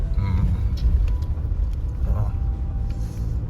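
A car driving along a rough, snowy mountain road near Tanglang La pass in Ladakh, giving a steady, close, low engine and road rumble with small bumps throughout.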